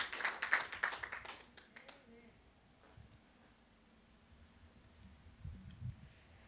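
A church congregation at an Easter Sunday service claps hands in praise, a burst of rapid, fairly loud clapping over the first two seconds that fades into low room noise, with voices talking faintly through it.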